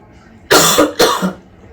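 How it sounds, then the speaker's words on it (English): Two harsh coughs in quick succession, close and loud, followed by quiet. "Sorry for the coughing."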